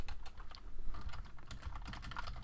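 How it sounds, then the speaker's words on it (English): Rapid, close clicking of a computer keyboard as someone types into a Minecraft chat, a continuous run of keystrokes with no speech. "if I was to type something in the chat"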